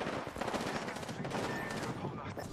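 Rapid gunfire in Apex Legends, bursts of automatic shots crackling quickly in succession at moderate distance, with fainter game voice lines underneath.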